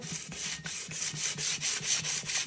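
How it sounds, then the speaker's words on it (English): Sandpaper rubbed by hand over a tumbler in quick back-and-forth strokes, a close, steady rasping with a regular rhythm of roughly three strokes per second, and no talk. "and sand like this. You can go in circles or up and down."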